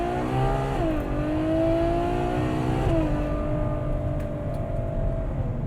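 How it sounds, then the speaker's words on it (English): A Ferrari FF with all-wheel drive launches hard in a left turn, its engine revving up loudly, dipping at a gear change and climbing again, then settling into a steadier drone with a brief second shift. Nobody speaks. "Let's launch it again, turning left, got the all-wheel drive"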